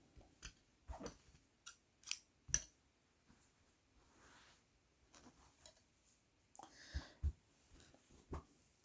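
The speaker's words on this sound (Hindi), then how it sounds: "धागा काट देंगे" Quiet, close snips of scissors cutting crochet thread, a handful of sharp clicks spaced irregularly with soft handling rustle between them.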